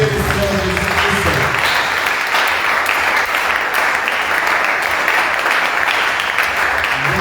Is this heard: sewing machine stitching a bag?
no